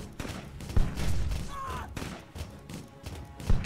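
Tower gunfire in the video game Steampunk Tower 2: repeated thumping shots and rattling bursts in an uneven rhythm, fairly loud, with some game effects layered in and no clear talk.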